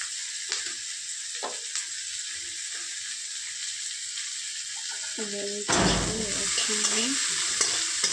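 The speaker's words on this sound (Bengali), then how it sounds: "পেঁয়াজটা লাল করে ভেজে নেব। এর মধ্যে আমি রসুন কুচিটাও দিয়ে দিচ্ছি।" Fish, onions and chopped garlic fry in hot oil with a steady close sizzle, broken by scraping strokes as a spoon stirs the pan, and someone speaks partway through.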